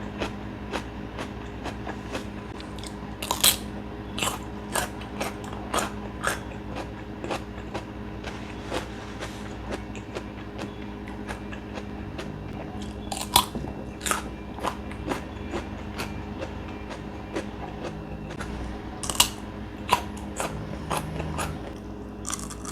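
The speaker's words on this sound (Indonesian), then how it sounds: "kandungan airnya banyak, krenyes, kerasa banget timunnya" Crisp bites and chewing of a juicy, watery cucumber, with sharp crunches recurring irregularly over a steady low background hum, close and fairly loud.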